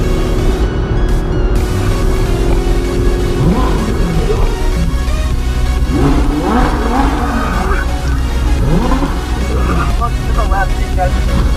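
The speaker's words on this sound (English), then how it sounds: "Rev, rev, rev." A supercar engine on a city street revs in repeated rising and falling bursts over a constant loud roar, with people talking nearby.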